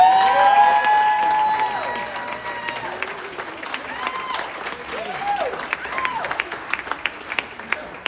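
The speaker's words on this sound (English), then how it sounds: "please give a round of applause for Rini and Tom" Wedding guests applaud at a best man's speech, a loud, steady wash of clapping with some voices and cheers riding over it, slowly thinning toward the end.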